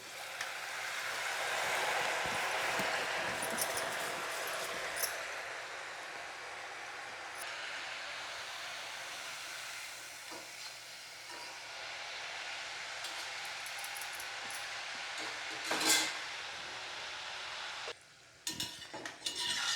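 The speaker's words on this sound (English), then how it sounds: "I press it into the hot oil." Mixture dough, the Diwali namkeen snack, is pressed into hot oil and fries with a steady, fairly loud broadband sizzle that runs almost the whole time, with a few brief clinks and scrapes near the end.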